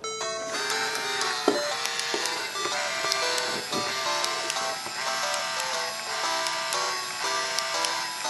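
A Game Boy Printer prints out a long banner on fresh batteries, giving a close, fairly quiet mechanical whir broken by rapid ticking and small clicks as the paper feeds along, with no talking.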